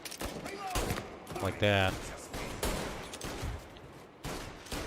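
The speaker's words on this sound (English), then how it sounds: "I like to go for the headshots if I can with the gun or the pistol." Pistol shots in the 1930s crime game Mafia Definitive Edition crack out as a few sharp, separated bursts mixed in with someone talking, moderately loud against a busy game background.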